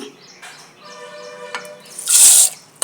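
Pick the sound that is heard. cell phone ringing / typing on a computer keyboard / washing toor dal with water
washing toor dal with water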